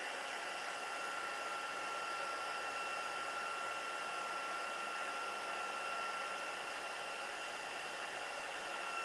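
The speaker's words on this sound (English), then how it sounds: "I've got to move my heat tool so I cover the whole image." Steady broadband whoosh of a heat embossing tool blowing hot air over a stamped image, continuous and even at close range with a faint tonal whine running through it, no voices.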